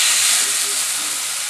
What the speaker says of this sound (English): I use a frying pan, medium high heat. I just add a little bit of cooking oil, vegetable cooking oil. And we're gonna brown the tenderloin.